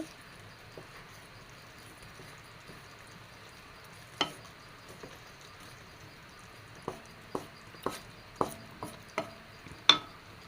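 Pappadam and egg curry cooking in a pan: a soft low sizzle runs throughout, broken by scattered clicks and taps of a utensil that come more often toward the end, quiet and close.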